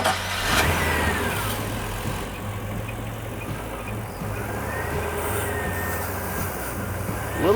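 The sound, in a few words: car engine started and running for fogging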